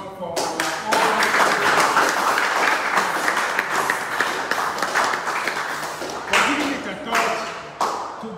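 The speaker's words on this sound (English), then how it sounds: "And I think this needs a round of applause for our own." A round of applause at a press briefing for a national table tennis open: a room of people clapping briskly, swelling early, thinning, then flaring again in short bursts.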